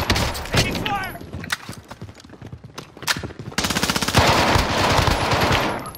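Machine-gun fire in a multiplayer video game crackles in rapid bursts, first scattered shots and then a long, sustained volley near the end. Players talk over the gunfire at the same time.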